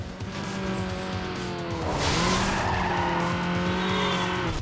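Racing cars in Need for Speed Underground roar with high revving engines and squealing tires, the engine pitch dipping and climbing again as a louder burst of skidding noise sweeps through, steady and close with no talk.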